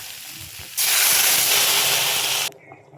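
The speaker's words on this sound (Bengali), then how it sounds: "এখন জল দিয়ে দিব।" Water poured onto fried potatoes in a hot pan for a Bengali egg and potato curry erupts into a loud, close sizzling hiss of steam that holds for nearly two seconds, then cuts off abruptly, with quieter frying before and after.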